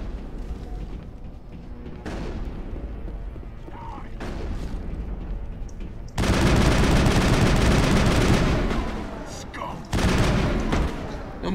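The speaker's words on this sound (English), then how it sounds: "except there's still gunfire." Rapid gunfire and bursts from a Mass Effect firefight, with sustained automatic shooting and booming impacts, loudest in a dense barrage midway, mixed with game effects and occasional voices.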